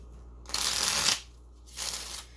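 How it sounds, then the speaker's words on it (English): A mini deck of Everyday Witch Tarot cards is shuffled in two quick riffling bursts, close and crisp, with a short pause between them and no talking. "what I'm shuffling right now is a mini deck of the Everyday Witch Tarot by Deborah Blake"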